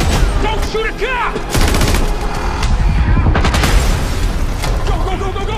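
Rapid automatic gunfire and bursts of shots crackle loudly through a chaotic bank-robbery action scene from the 2022 film Ambulance, mixed with shouting voices and booming impacts throughout.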